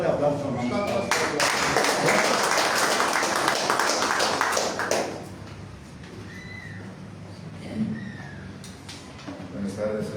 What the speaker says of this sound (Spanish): Nuevamente, fuerte aplauso